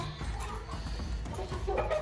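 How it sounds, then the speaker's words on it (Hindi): Chickens clucking nearby in short, irregular bursts against a steady background murmur. "ये सील मुर्गा है, ये भी सील मुर्गे हैं"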